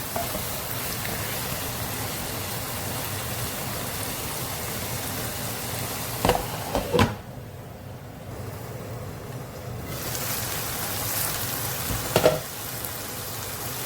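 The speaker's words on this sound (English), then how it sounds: "Stir fry for another 2 minutes." Sausage pieces stir-fried in a pan for a pasta dish, a continuous close sizzle that briefly dips quieter, with a couple of clanks from a utensil against the pan.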